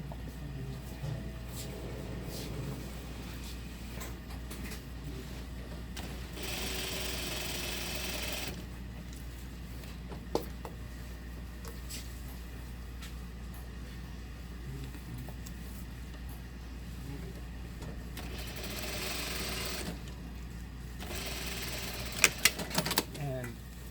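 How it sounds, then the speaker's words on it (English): A sewing machine stitches around the inside pocket bag of a jacket in a tailoring workshop, a steady mechanical whir running in long bursts with a brief pause, while a person talks over it. "just sew around the pocket bag"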